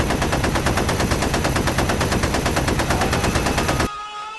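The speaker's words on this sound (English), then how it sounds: "the street was filled with magic and gunfire" Rapid, sustained automatic gunfire, loud and close, a continuous burst of shots that stops abruptly near the end.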